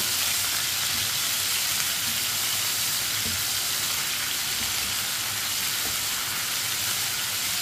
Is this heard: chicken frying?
yes